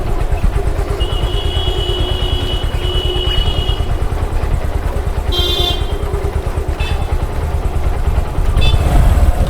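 A motorcycle at a bike training centre in Kolkata runs with a steady mid-pitched engine drone as the learner rides and opens the throttle gently, close and continuous with a slight rise in loudness near the end; no talking.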